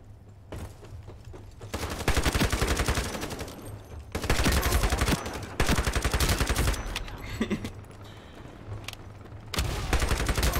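Rapid gunfire in the PC shooter Iron Sight, with dense bursts of automatic fire and overlapping shots coming in loud waves separated by brief quieter gaps.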